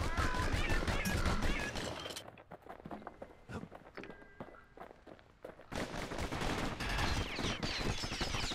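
Video game gunfire in Bastion, loud rattling bursts of rapid shots at the start and again near the end, with a quieter stretch of scattered hits and footsteps between, under game music and occasional narration.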